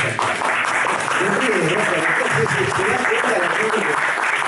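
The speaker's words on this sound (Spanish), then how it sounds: "A él sí lo podemos aplaudir más despacio" Sustained audience clapping at a book presentation, a dense, even wash of many hands lasting throughout, recorded from within the room.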